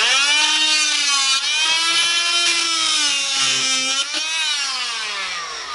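A reciprocating saw with a bimetal blade cutting through nails sticking out of a window frame gives a loud, steady, close buzzing whine with slight pitch wavers as the blade bites, and no voices.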